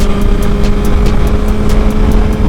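A sport motorcycle engine runs steadily while being ridden on a track test session, a loud continuous drone with wind noise and a faint rhythmic pulsing throughout.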